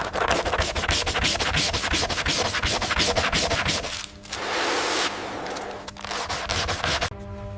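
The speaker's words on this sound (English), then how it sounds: "Each layer must dry and be sanded before the next." Rubberized edge paint on eel leather handbag edges being sanded by hand, a steady rhythmic rubbing and scratching in fast close strokes, pausing briefly before a smoother stretch of sanding.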